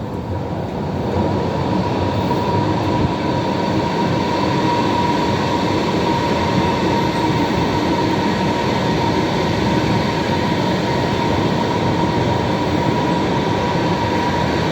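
A train at a Berlin station gives a steady loud rolling rumble with a faint high tonal whine throughout, continuous and without talk.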